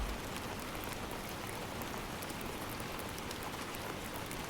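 Steady, dense hiss of heavy rain pouring down without a break, even and constant throughout, with no voices.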